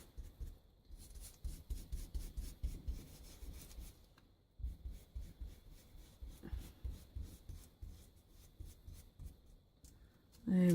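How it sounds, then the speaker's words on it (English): Close, steady back-and-forth scrubbing of a not too stiff brush rubbed over a scrap-built piece, in quick rhythmic strokes with a brief pause near the middle and a louder knock at the end. "with a not too stiff brush. I'm just going to sort of give it a bit of a rub."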